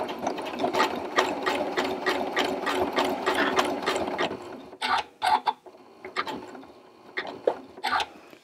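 A Janome M7 sewing machine stitches hexagons, running a steady rhythmic needle clatter for about four seconds, then breaking into short separate bursts as it stops and starts around corners.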